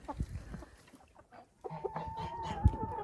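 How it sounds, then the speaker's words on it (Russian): Hens cluck around a mechanical hopper feeder as they eat on frozen ground, with soft, scattered clucks and small pecking noises close by. "Здесь курочки подошли, кушают."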